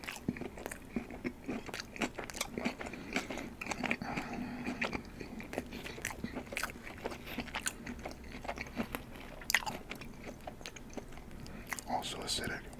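Close, crisp bites and crunchy chewing of Chicago-style Italian sausage and hot giardiniera pepper tavern pizza, irregular sharp crunches repeating over about twelve seconds with soft mouth sounds.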